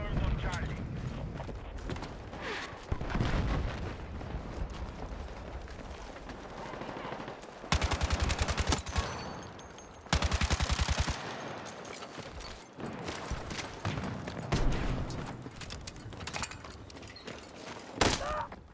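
Automatic gunfire in the video game Battlefield 6, with dense bursts of rapid shots and sharp single cracks over noisy combat ambience, while people talk throughout.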